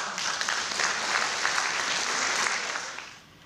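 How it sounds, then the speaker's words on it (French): Audience applause at a school mathematics rally ceremony. A full, steady roar of many clapping hands holds for about three seconds, then fades out near the end. "Je pense qu'on peut applaudir Aaron."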